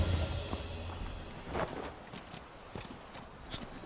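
Horse hooves clip-clop at a steady walking rhythm in the video game Where Winds Meet, fairly quiet and close, with a few louder thuds and no talk over them.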